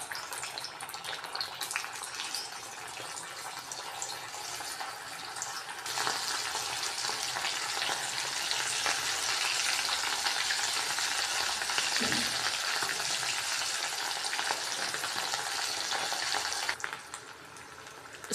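Boiled baby potatoes, pressed flat, fry in oil in a pan over high heat, giving a steady loud sizzle that swells midway and then drops off near the end, with no voices.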